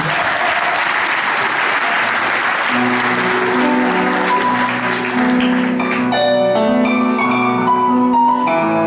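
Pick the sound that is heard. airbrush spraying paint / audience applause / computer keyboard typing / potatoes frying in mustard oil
audience applause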